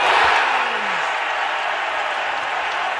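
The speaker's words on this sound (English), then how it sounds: "And the crowd went crazy." Arena crowd in Philadelphia roaring after a Markelle Fultz three-pointer at a basketball game, a dense, steady wash of cheering and applause holding at full volume throughout.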